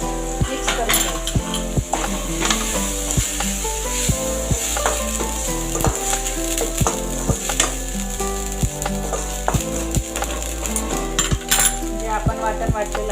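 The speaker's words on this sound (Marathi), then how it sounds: "आपण काढलेले मसाले, घरगुती मसाला, आगरी मसाला आणि हळद पावडर हे सगळं मिक्स करून घ्यायचं" Tomatoes sautéing in a pan with homemade Agri masala, salt and turmeric for a prawn curry, giving a steady close sizzle broken by frequent sharp clinks and scrapes of a spoon against the pan.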